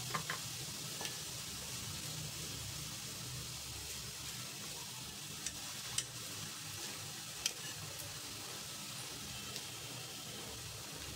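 Indori poha being gently stirred and mixed in a pan, a soft steady sizzle with faint scraping and light clicks of the spoon throughout.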